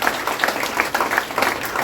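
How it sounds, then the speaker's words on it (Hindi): An audience at a drama lesson claps for an expert in a short, lively burst of hand claps, moderately close and fairly loud, with uneven overlapping strikes and no speech. "एक अच्छी जोरदार ताली बजा दीजिए हमारा एक्सपर्ट के लिए"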